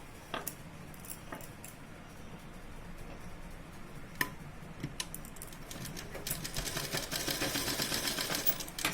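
A home sewing machine stitches a seam on an A-line nighty, light mechanical clatter with scattered ticks and clicks, building into a faster, denser run of stitching toward the end.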